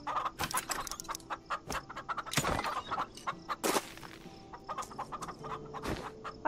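Several chickens cluck busily in Farm Together's farmyard, dense overlapping clucks with a few louder squawks standing out, close and lively with no talking.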